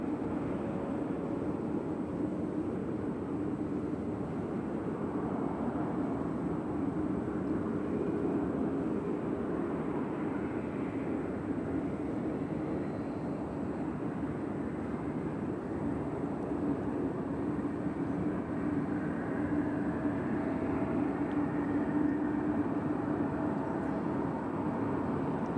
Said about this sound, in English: We also got JetBlue coming in from JFK.